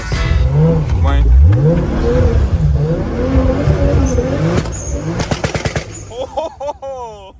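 A 700 hp R33 GTR fitted with a 2JZ engine and antilag revs hard with rising and falling engine pitch, then fires a rapid burst of loud, gunshot-like pops and bangs. Voices are heard over the car.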